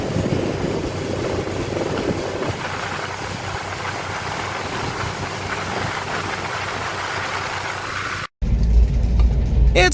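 A French Coast Guard helicopter's steady rotor thrum and engine roar fills the air continuously and loudly during a storm rescue at sea, then cuts abruptly to a different, close, low rumbling noise.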